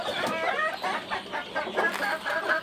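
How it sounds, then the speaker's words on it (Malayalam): Phoenix breed chickens cluck softly in a steady, low-level murmur of short repeated calls on a poultry farm, somewhat distant and muffled. "ഇത് ഫീനിക്സ് എന്ന ഇനത്തിൽപ്പെട്ട കോഴികളാണ്."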